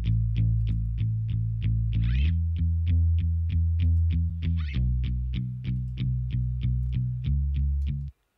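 A cover mix processed with the R Bass plugin adding low-end harmonics: a steady, evenly pulsing line of repeated notes over a thick, heavy bass, with two brief sweeping swells, stopping abruptly at the end.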